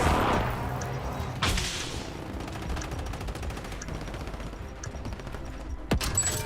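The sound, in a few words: airstrike and gunfire in a video game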